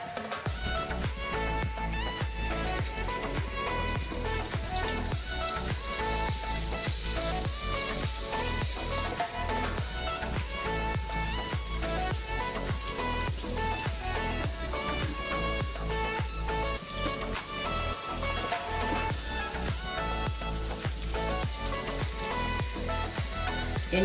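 Sweet Kerala appam batter fries in hot oil with a steady, dense sizzle and bubbling that lasts throughout. Occasional faint clinks of utensils sound over it, and no one speaks.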